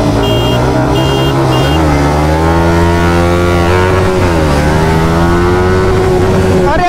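Yamaha MT15 motorcycle accelerating hard in a race against other bikes, its engine note loud and close, rising in pitch through the gears, with a brief shift dip in the middle.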